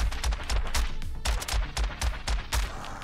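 Rapid bursts of pistol fire in the game Bullet Bunny, sharp repeated shots in quick succession with short pauses between volleys, fairly quiet overall.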